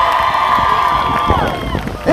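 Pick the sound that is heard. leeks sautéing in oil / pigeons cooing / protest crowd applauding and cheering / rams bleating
protest crowd applauding and cheering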